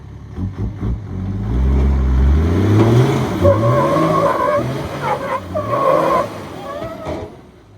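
A 1HDT diesel four-wheel drive on a track, its engine revving hard in several deep rising surges with tyre scrabble, loud and close with little talk.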